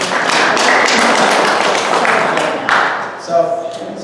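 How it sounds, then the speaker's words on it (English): Audience round of applause at a talk on Sherwood Anderson's Winesburg, Ohio, loud close clapping sustained for about three seconds before thinning, with a brief voice near the end. "Give a round of applause"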